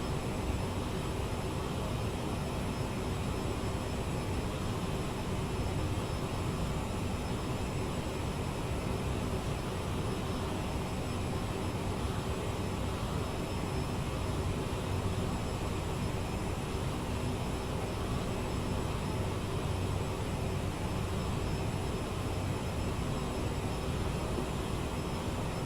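CRJ jet engines at climb thrust in Microsoft Flight Simulator 2024 make a steady, unbroken broadband roar that holds an even level throughout, with no voices over it.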